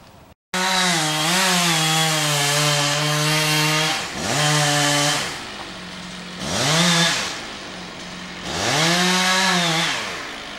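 Chainsaw cutting into a large tree being felled, loud close revving in repeated bursts, each rising and falling in pitch with short pauses between cuts.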